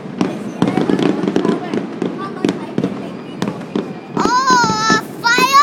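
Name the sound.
fireworks exploding at New Year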